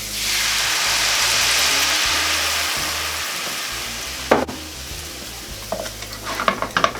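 Beer is poured into a hot pan of melted butter and onions and bursts into a loud, hissing sizzle that slowly fades, followed by scraping and clacking of a utensil against the pan.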